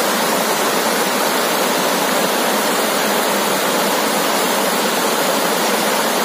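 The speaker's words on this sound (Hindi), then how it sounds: "झरना हिमायत बाग का" Waterfall at Himayat Bagh on the Kham River, a tributary of the Godavari: a loud, unbroken roar of falling water that stays steady from start to finish, with no other sounds.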